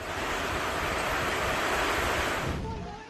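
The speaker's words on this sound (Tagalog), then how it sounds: "Sa Legazpi, Albay, ramdam ang paghugupit ng hangin." Loud, steady roar of strong wind and crashing surf at a port in Legazpi, Albay, Philippines, filling the whole stretch and easing slightly near the end.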